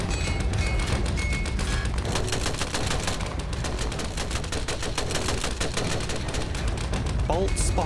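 Dense, continuous volleys of machine gun fire and rifle shots fill a battlefield among the rubble of a bombed village, loud and unbroken throughout, with rapid rattling bursts layered over a low rumble.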